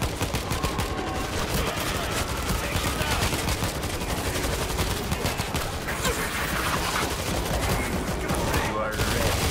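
Sentry guns fire nonstop in World War Z, dense rapid automatic gunfire filling the whole stretch, loud and close, with other game noise mixed in.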